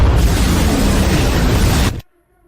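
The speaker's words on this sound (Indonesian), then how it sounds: "Meriam utama daya maksimum." Main cannon of a fantasy war fleet firing at maximum power in a drama: a loud, dense, roaring blast sustained for about two seconds, then cutting off sharply into near silence with a faint low rumble.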